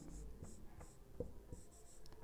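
Chalk or marker writing on a classroom board during a Hindi lesson, heard as a few short scratchy strokes in a quiet room.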